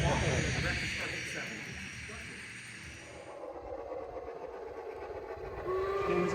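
A garden-scale model Shay locomotive runs on an FN3 garden railroad at a train show, giving a soft mechanical chuffing and rolling sound under people talking nearby, with a brief whistle-like tone near the end.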